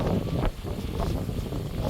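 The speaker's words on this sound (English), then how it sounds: "It's a very windy and dusty day today. The wind is so strong." Strong wind on a farm in Africa blows in a loud, rough rush, buffeting the microphone continuously for a couple of seconds.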